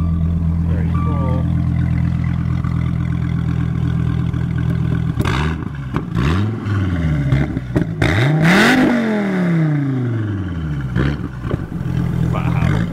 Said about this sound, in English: this V10 with this exhaust, and I heard it on the road